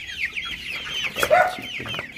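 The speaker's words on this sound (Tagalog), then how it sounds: "Chicken." A chicken clucks up close, giving a quick run of loud, chattering clucks and squawks with no voices over it.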